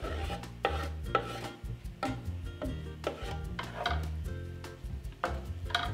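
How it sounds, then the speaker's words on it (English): Chopped mushrooms and onions are sautéed in a pan for a homemade mushroom pasta, with repeated rasping scrapes and stirring clatter against the pan over a low, steady background. The sound is fairly quiet and comes in irregular strokes. "Ada adds the chopped mushrooms to the onions and sautés them."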